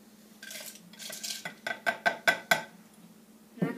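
Peanuts poured into a bowl and mixed, a run of hard clinks and taps against the dish building to several sharp knocks, then a final scrape, close and clear with no talk.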